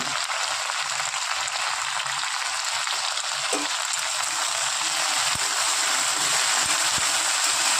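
Spices lightly frying in a pan for a Bengali mustard-paste mixed vegetable dish, a steady close hiss of sizzling with faint stirring scrapes and occasional clicks underneath.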